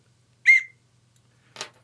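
A short sharp blast from a first aid kit whistle, followed a second later by a brief breathier, noisier toot; nothing else in between.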